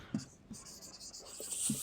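Chalk or marker scratching out a line on a classroom board during a class 12 physics lesson, faint and brief strokes in a quiet room with soft speech nearby.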